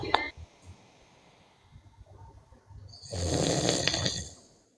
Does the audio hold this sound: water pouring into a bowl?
no